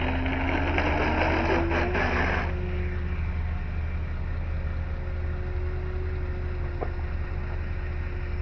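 Electric motor of an FMS Ranger 1220mm RC model airplane in flight, a steady droning whine with a rising tone early on before the throttle settles into a constant hum.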